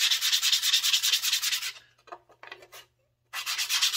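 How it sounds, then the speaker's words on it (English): Scroll-sawn wood is rubbed by hand against a board faced with roughly 120-grit sandpaper, giving fast rhythmic scratchy back-and-forth strokes, a short pause with lighter scrapes, then steady sanding again, close and loud. "I use this board right here with sandpaper attached to it."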